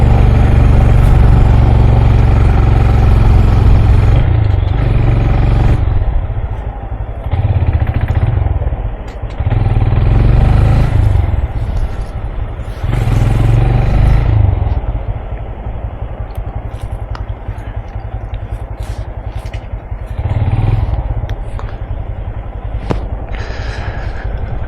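Honda GROM 2022 in matte black riding through city traffic, its small engine droning steadily and loudly close by, with surges and dips as it accelerates and slows, joined by passing vehicle rumble.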